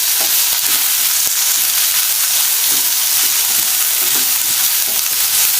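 Chilli powder and spices fry in a pan for a mutton pepper fry, giving a loud, continuous sizzle with scattered scraping stirs throughout; no talking.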